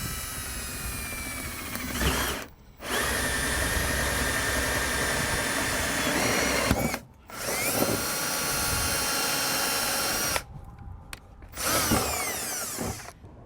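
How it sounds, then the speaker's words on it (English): A hole saw drills through the wall of a 2020 Grand Design RV, grinding loudly in four long sustained runs separated by brief pauses. "use our hole saw to drill that out"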